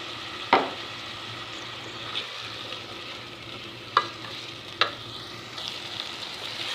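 Ginger garlic paste and green chilies frying in hot oil with a steady sizzle, while a spoon stirs and scrapes the pan in a few distinct knocks.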